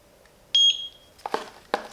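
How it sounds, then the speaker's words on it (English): A eufy S220 SoloCam solar security camera gives one short, clear electronic beep after its sync button is held, followed by a few soft handling clicks and taps. "I heard the beep."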